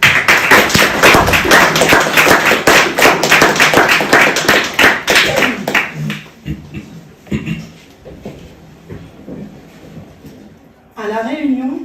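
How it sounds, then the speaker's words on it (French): Dense, loud audience applause at a public talk on the departmentalization of La Réunion, sustained for several seconds before fading into scattered claps, with a voice speaking near the end. "Donc je vous demande de l'applaudir."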